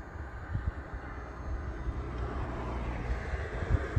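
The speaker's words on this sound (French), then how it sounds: "là on va démarrer quand même la moto, comme ça vous entendez un peu le bruit que ça donne" Kawasaki Ninja H2 motorcycle idling outdoors in Brussels, a steady low engine rumble holding at moderate distance with no talk over it.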